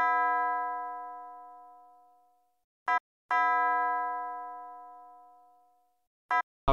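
A bell sample in an FL Studio beat rings out in long, bright sustained tones that slowly decay, repeated twice with short clicky stutter hits between, alone with no talk.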